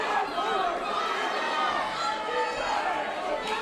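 A crowd cheering at a boxing fight night as a heavyweight bout swings, a dense roar of many voices with chatter mixed in, steady and fairly loud throughout.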